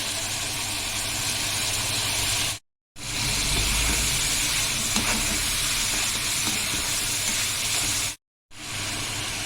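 Liver sizzling and frying in a pan as marinade is poured in, a steady loud hiss broken by two brief silent gaps.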